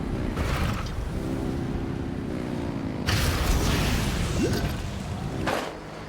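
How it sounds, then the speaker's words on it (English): Vehicle engines rev in the video game Genshin Impact, a dense, roaring rumble with whooshing surges that swells and eases over several seconds, loud and continuous with no voices. "Rev the engines!"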